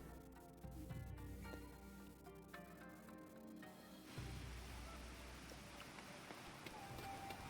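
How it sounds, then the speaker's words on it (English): Steady rain falls in Final Fantasy XIV, a dense wash of droplets under game music, growing heavier and louder partway through and continuing without pause. "Still raining sideways."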